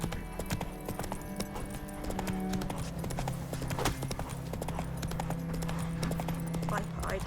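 Horse hooves clip-clopping at a brisk gallop in the video game The Witcher 3, a steady rhythmic pounding throughout, with background game music and a rider's voice speaking briefly.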